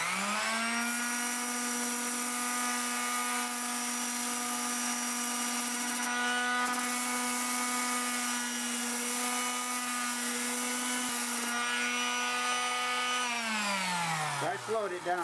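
A wood lathe spins a piece of wood at about 450 RPM, giving a steady, close whine with a constant pitch that winds down toward the end, under occasional talk.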